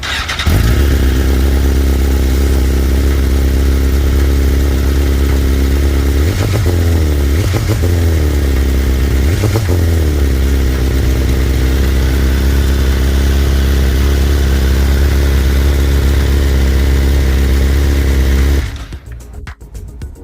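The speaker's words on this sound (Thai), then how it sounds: "ลองฟังเสียงเครื่องกันดูครับ" 2022 BMW S1000RR sportbike with a full carbon Akrapovic exhaust idling, a loud, close, steady inline-four burble with two brief blips in revs before it cuts off abruptly near the end.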